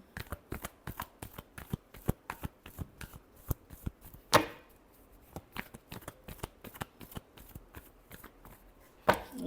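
Tarot cards are shuffled by hand in quick, repeated riffling bursts, close and crisp, with a few louder snaps standing out and no talk over them.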